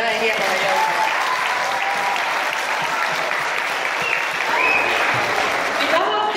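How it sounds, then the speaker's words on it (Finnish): An audience at a student exchange program event applauds, a steady, dense wash of many hands clapping that holds at an even level from start to finish, with faint voices underneath. "Eiköhän anneta aplodit vielä näin hienoille joukkoille."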